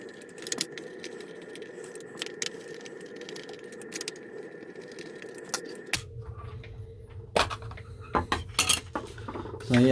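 Electronics box on a custom Axial SCX10 RC car being cracked open, with a steady hum giving way to sharp plastic clicks, snaps and rattles close up.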